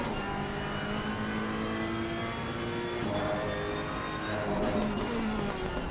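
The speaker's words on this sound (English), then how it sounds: "I've got sound of the cars." GT3 race cars lap the Misano circuit, their engines a steady, distant droning roar with rising and falling tones as they accelerate and pass, with no talk over it.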